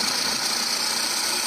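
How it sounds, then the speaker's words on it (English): Car engine running with a faulty belt tensioner, a steady idling drone carrying a high, continuous whine or chirp from the belt area, loud and unbroken with no speech. "Belt tensioner makes abnormal noise."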